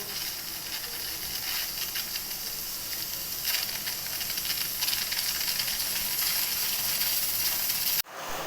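A pressure cooker cooking bottle gourd with chana dal releases a long, steady steam hiss that holds loud and even for about eight seconds before cutting off abruptly.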